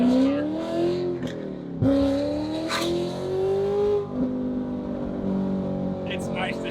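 A 2020 Chevrolet Corvette C8 engine pulls through the gears from inside the car, its drone climbing in pitch, then dropping sharply at each upshift, about two clear shifts, loud and steady throughout.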